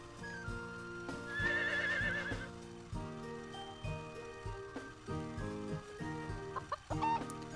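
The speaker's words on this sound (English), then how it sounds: "chick has grown into a chicken." Chicken clucks and a horse whinny in the Harvest Moon farming game, set over looping background music with rhythmic game sound effects, fairly quiet throughout.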